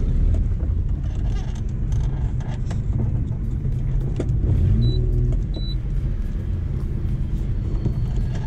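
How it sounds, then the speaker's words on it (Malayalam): A modified Maruti Suzuki 800 with an aftermarket exhaust gives a steady, close, low rumble from inside the moving car, broken by two short electronic beeps midway. "പക്ഷേ ആ എക്സോസ്റ്റിൻ്റെ നല്ലൊരു സൗണ്ടാണ്."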